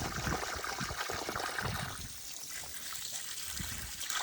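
Water splashing and trickling steadily close by onto grapevines in spring, with a bright continuous rush that eases slightly partway through.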